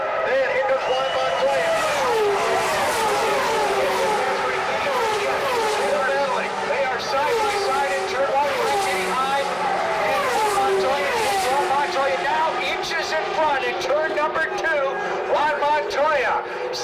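Indy race cars scream past at the 2000 Michigan 500, with loud, continuous high-revving engines rising and falling as cars pass close by, under a commentator's steady talk.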